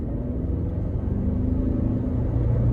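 A Mercedes C-Class W204 sedan engine accelerating in S mode, a steady low rumble that rises gradually in pitch and loudness from inside the car, with no talk.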